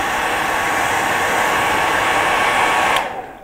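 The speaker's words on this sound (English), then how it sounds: "all I did was blow the hairdryer through it" A hair dryer blows through fly-tying fibres with a loud, steady rushing whoosh close by, then cuts off abruptly near the end.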